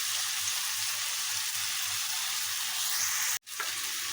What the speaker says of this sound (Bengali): চিকেনটাকে আমি ভেজে নিচ্ছি